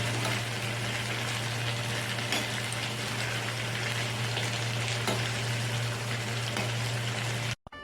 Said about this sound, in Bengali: নেড়ে চেড়ে ভাজা ভাজা করে নেব।